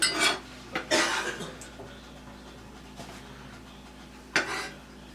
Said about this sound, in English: this is where I like to add the apples